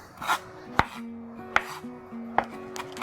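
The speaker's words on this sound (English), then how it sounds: "This is a chopping technique." Three crisp knife chops on a cutting board as herbs are chopped, evenly spaced and close, with quieter scraping between them over a soft background hum.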